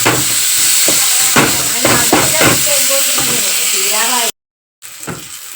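Tomatoes sauté in a hot pan with a loud, steady hiss and sizzle. A voice talks over part of it, and a brief silent gap comes near the end.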